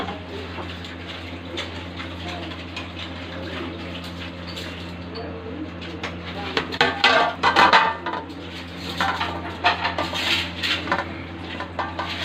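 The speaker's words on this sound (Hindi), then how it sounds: "थोड़ा सा चम्मच हिलाएंगे ऐसे करके थोड़ा सा चम्मच हिलाएंगे" Metal clinks and scrapes of a spoon stirring boiled mutton and biryani masala inside a pot, irregular and close, over a steady low kitchen hum, growing busier toward the end.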